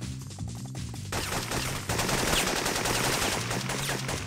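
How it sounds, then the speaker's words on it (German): Enemy gunfire in the PS1 game Syphon Filter rattles in rapid automatic bursts, loud and continuous under steady game music, with no talking. "die bösen Onkel schießen wieder"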